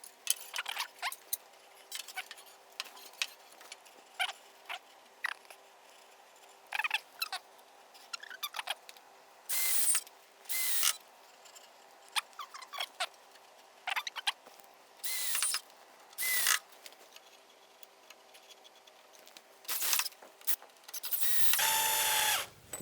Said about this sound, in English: So all you have to do is just put the screw in there.